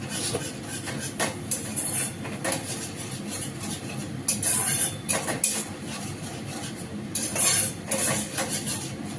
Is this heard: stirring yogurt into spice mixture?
yes